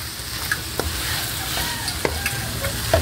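Banana blossom sautéed with fried smoked fish is stirred in a pan, the utensil scraping and knocking at irregular moments over a steady, close sizzle, with no talking.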